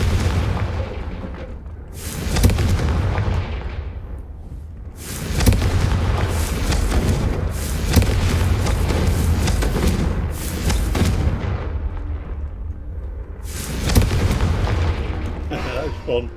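Repeated booming explosions from the Confringo spell in the video game Hogwarts Legacy, several heavy blasts each followed by a rumbling decay, loud and spaced a few seconds apart.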